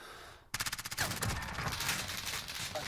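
A 725 shotgun loaded with buckshot fires amid a Modern Warfare match, part of a dense, loud run of overlapping gunfire with rapid repeated blasts continuing through the clip.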